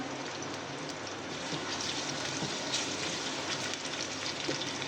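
Chopped onion frying in oil inside an open pressure cooker for a chicken and bottle gourd curry, making a continuous, even hiss and sizzle at moderate level, alone.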